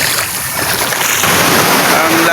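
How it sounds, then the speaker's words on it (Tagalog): Strong ocean waves washing onto a beach in the morning, a loud, continuous broadband roar of surf and churning water that swells slightly louder partway through. "Ang lakas ng alon"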